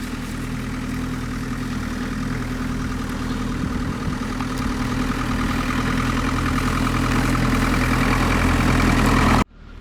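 A Land Rover Series 3 engine idles with a loud, steady, rough mechanical drone, building slightly over several seconds before cutting off abruptly at the end; no voices.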